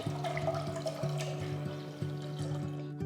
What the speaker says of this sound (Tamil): ஒரு பாத்திரத்தில் வேக வைக்க தேவையான அளவுக்கு தண்ணியை ஊற்றி